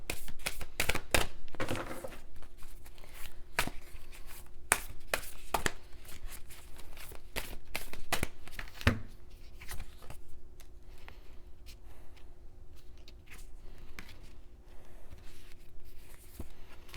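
Oracle cards for a tarot reading being shuffled by hand, with crisp, quick riffling and card slaps in irregular bursts, close up, thinning into softer handling toward the end.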